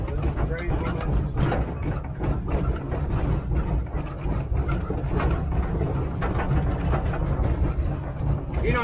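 A steam locomotive works uphill at steady speed, a dense, continuous close-up roar with heavy low rumble and mechanical clatter that never lets up.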